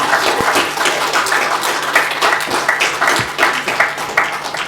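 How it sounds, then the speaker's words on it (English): Audience applause for speakers at a talk event, a steady mass of clapping hands with distinct sharper claps poking through, fairly close and loud, no talk over it. "Give them a round of applause, ladies and gentlemen."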